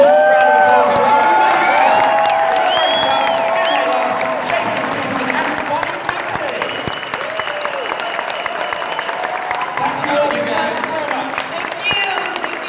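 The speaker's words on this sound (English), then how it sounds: "can we please get another huge, huge round of applause for" A convention crowd at Bronycon 2019 claps and cheers loudly, sustained applause with whoops and raised voices that tapers slightly but carries on throughout.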